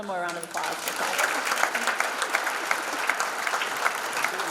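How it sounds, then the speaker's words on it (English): An audience at a school hall of fame ceremony claps steadily for several seconds, a dense, even wash of applause following a brief tail of speech. "One more round of applause for Kathy."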